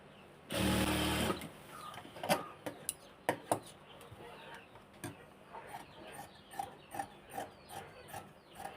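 A sewing machine runs in a loud burst while stitching a seam on dress fabric, then gives way to a series of softer clicks and short taps from handling the garment.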